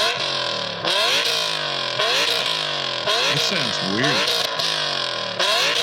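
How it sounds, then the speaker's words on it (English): A car with an aggressive F1-style exhaust revs hard in a garage setting, several loud rising and falling engine sweeps close by, with a person talking briefly over it. "It's the Insane F1 exhaust."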